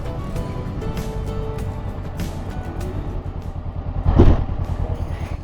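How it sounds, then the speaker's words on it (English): Motorcycle pannier striking a bollard on a narrow pedestrian path, one sharp clanking knock near the end, heard over the steady rumble of the motorcycle engine. "that was the sound of the pannier hitting the bollard"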